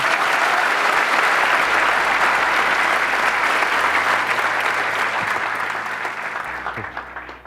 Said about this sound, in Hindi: ताली किस लिए बजाई है?